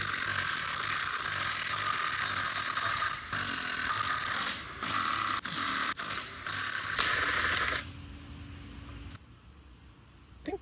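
Bolts coming out of a Japanese sports car with a ratchet tool make a fast, continuous clicking that stays loud and close for several seconds, then stops abruptly into quiet, with a brief knock at the very end.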